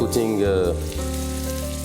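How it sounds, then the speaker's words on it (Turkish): Meat sizzles and fries in a pan for a traditional Moroccan dish, a steady close sizzle under tonal, voice-like sounds that run through the whole stretch. "Tavaya su eklemeden önce kızartmamız gerekiyor."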